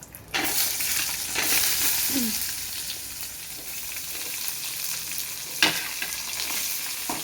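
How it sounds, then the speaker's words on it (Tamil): Steady sizzling of onion, garlic, cinnamon and chili being lightly sautéed in a pan for pirandai chutney, with occasional sharp clinks and scrapes of a spatula stirring, close and fairly loud. "வெங்காயம் பூண்டு பட்டை மிளகாய் இது மூணுத்தை மட்டும் இப்போ சேர்த்துக்கலாம் சேர்த்து லைட்டாக வதக்கிப்போம்"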